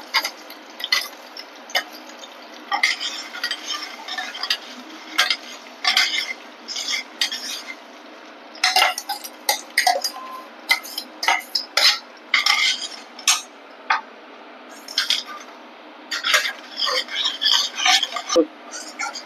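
Thick ground paste of tomato, poppy seed and cashew going into a hot pan for paneer gravy, with a run of close clinks and scrapes of a spoon against the pan and faint stirring, pausing irregularly.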